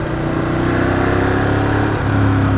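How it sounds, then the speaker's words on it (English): A mid-range Ducati motorcycle engine revs hard after failing to catch third gear, a loud, steady, close roar that holds high for over two seconds with a brief dip before climbing again, with no talk. "it kind of put me into this weird, I didn't like catch third gear, so it just kind of revved me up"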